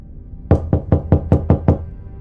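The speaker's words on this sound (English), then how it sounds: "he heard the knock start at the back door" Seven quick, evenly spaced knocks rap on a back door, sharp and fairly close, after a brief quiet moment, with silence again once the knocking stops.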